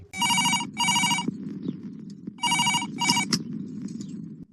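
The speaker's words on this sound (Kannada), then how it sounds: "ಅಂತಕ ಜಿಯಾಗೆ ಫೋನ್ ಮಾಡ್ತಾನೆ" An incoming call sets a telephone ringing in a crime thriller scene, two double bursts of bright electronic trilling separated by a pause, loud and close over a steady low background hum.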